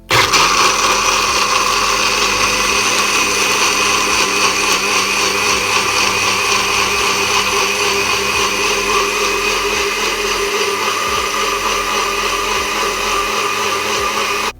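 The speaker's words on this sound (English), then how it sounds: "Alright, and now we're just gonna blend it." A NutriBullet blender runs loud and steady, purees broccoli and potato soup with water in a continuous high motor whine, and cuts off abruptly at the end.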